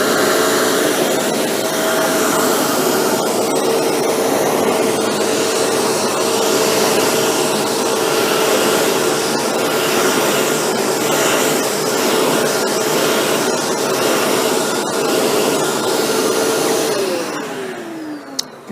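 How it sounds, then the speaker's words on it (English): A Shark Apex vacuum cleaner runs with its motorized pet tool attached, giving a loud, steady broadband whine and roar with a constant tonal hum. The motor holds nearly unchanged and then winds down at the very end, with no talking. "Now we're going to run the Shark Apex, and we use the motorized pet tool."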